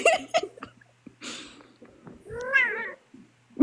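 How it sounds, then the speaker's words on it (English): A house cat meows several times, with short bursts at the start and a longer, rising meow near the end. Soft rustling and low background sounds come between the calls. "Oh, the cat."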